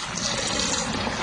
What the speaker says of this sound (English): Let me pour it in.